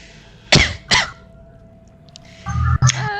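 Two sharp coughs in quick succession from a nearby person, followed after a pause by another harsh cough-like burst over a faint steady tone.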